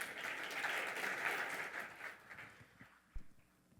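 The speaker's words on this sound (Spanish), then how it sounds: "Un fuerte aplauso para ellos" Applause from a conference audience, steady at first and then thinning out, heard from a distance with a faint thump near the end.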